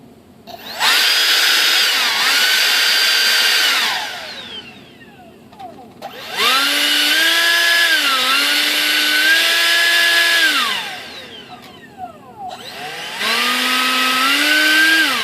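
An electric ducted fan on a Durafly DH 100 Vampire Mk 6 model jet spins up in three long, loud whining runs, the pitch rising and holding steady before each spin-down while the fan is balanced.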